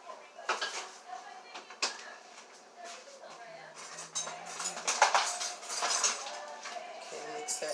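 A utensil mixing seasoning and mustard into eggs in a bowl for a crab and kale quiche, giving irregular clinks and scrapes against the bowl, with a person talking over parts of it.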